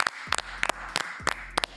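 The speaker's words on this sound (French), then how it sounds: "On peut encore applaudir." A few bursts of hand clapping come in uneven clusters, light and scattered rather than a full roar, fairly close, at a Summoners War esports playoff broadcast.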